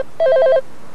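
A wristwatch gives a phone-style ring, a short burst of rapid warbling electronic tones lasting under half a second, close and clear with nothing else around it.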